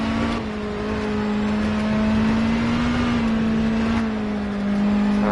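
Race car engine in Project CARS holds a loud, steady high-revving drone on a flying lap, its pitch rising slightly and then easing off, with no talk.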